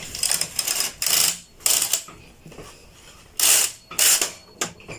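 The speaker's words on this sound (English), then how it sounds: "So let me move the first row of the lace carriage, and then you see what happens." A lace carriage on a home knitting machine slides across the needle bed. It makes several bursts of rattling, clicking mechanical clatter separated by brief pauses, close up and fairly loud.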